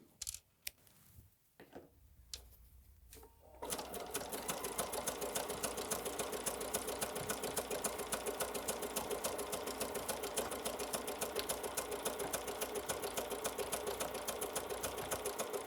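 A sewing machine stitches rope into a watermelon trivet. After a few quiet handling clicks it starts up and runs steadily, giving a fast, even needle chatter that continues to the end.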